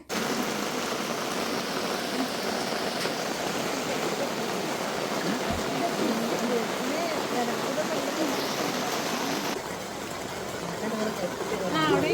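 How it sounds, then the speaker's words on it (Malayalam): A steady, unbroken wash of good rain falls close by for the whole stretch, with voices murmuring beneath it. "പിന്നെ കൂടെ നല്ല മഴയുണ്ട്."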